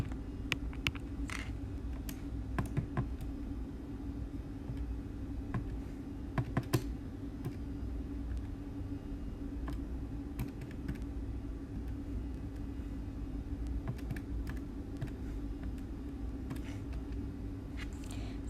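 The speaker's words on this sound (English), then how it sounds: "Please have a go at typing onto your calculator." Calculator keypad buttons are pressed in a classroom setting, producing scattered faint clicks over a low steady hum, with no talk.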